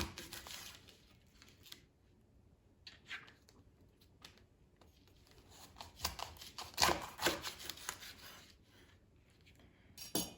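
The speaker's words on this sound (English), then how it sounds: "And now I'm going to cut them in half." Whole artichokes sliced in half with a kitchen knife, giving close, quiet rasping and crunching cuts in irregular bursts, with a louder cluster of strokes midway and no talking.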